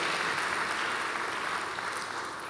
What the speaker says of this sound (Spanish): Démosle un fuerte aplauso al Señor por esa ese siervo que Dios está levantando